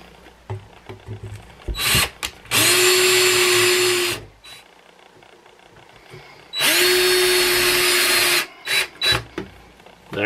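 A power drill drives new screws into a flimsy sump pump lid in two long whirring bursts, loud and close, with short trigger blips and clanks between them.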